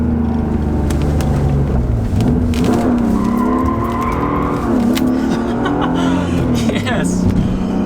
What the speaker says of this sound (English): let's try to kick the clutch a little bit here and see how that goes